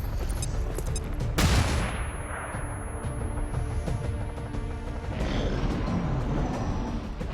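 Overwatch gunfire in the video game XCOM 2: a sudden loud crack of shots bursts out, then a dense wash of rattling fire, explosions and debris under a constant loud game soundscape.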